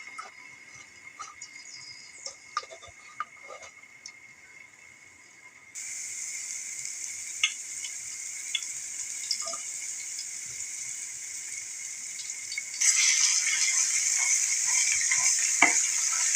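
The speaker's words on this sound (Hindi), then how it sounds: "अब हम लहसुन अदरक का जो पेस्ट है इसको थोड़ा सा ब्राउन कर लेंगे।" Garlic ginger paste browns in a pan with a soft sizzle that swells louder in two steps, while quiet stirring taps come through now and then.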